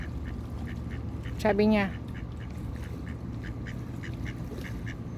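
A duck quacks in a short, nasal burst of a few calls near the start. The calls are fairly loud and close, and people keep talking throughout.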